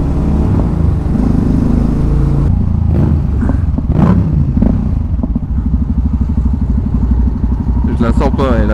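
A motorcycle engine revs and builds speed up close, its loud steady drone rising into a rapid buzzing pulse while voices talk over it.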